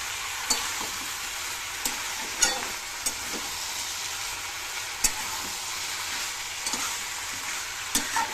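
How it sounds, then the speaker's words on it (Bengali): Vegetables stirred with ginger-garlic paste in a hot frying pan give a steady oily sizzle, punctuated by sharp spatula scrapes and taps against the pan every second or so, close and continuous with no talking. "একটু প্রথমে আদা রসুন বাটাটা একটু দিয়ে দেবো, দিয়ে একটু ভালো করে নেড়ে নেবো"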